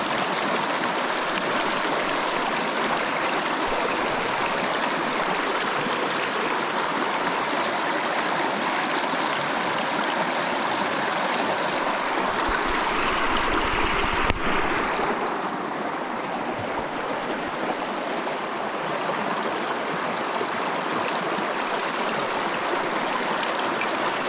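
A river rushes past a wilderness campsite in the Canadian wild, a loud, steady broadband flow heard close by and alone, with a brief shift in tone midway.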